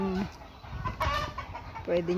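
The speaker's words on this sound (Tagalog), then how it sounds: "Mga imported na manok." A chicken, an imported gamecock for sale, gives a few clucks and short calls nearby, with faint background murmur between them.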